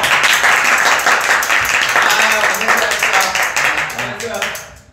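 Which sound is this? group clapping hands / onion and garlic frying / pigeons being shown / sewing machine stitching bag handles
group clapping hands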